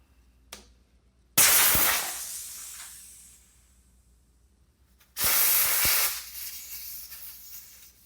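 Air hisses from the valve of a tubeless bicycle tire while the valve core is being refitted. Two loud, close bursts each start sharply and then fade, with quiet between them.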